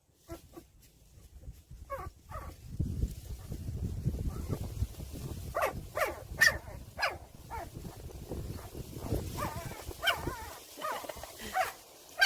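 Newborn puppies whimper and squeak in a series of short, faint, high cries over soft rustling, with someone talking quietly nearby.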